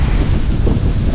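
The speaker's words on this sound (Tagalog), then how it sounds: "Lakas ng hangin mga boss, yung tower, yung ugong." Strong wind at a building construction site buffets the microphone in a loud, steady low rumble with gusty fluctuations, briefly and without talk.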